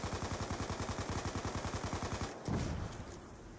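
Steady automatic gunfire in Black Ops 2 zombies mode, a fast even stream of shots for over two seconds, then a short burst of heavier impact noise before it tails off.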